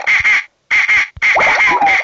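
Rubber duck toy in the Talking Angela game gives three squeaky quacks in quick succession, loud and close, with brief silences between them.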